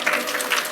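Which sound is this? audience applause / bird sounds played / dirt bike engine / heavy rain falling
audience applause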